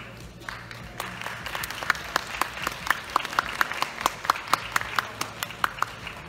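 Audience applause greets the champion of the sports model category at a Japanese physique competition, steady clapping with sharper individual claps standing out, sustained through the whole stretch without talk.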